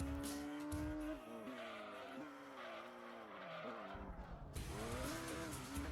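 A car spins out in Gran Turismo 2, its tires squealing and skidding over a strained, shifting engine whine that dips briefly and then surges back, loud and continuous.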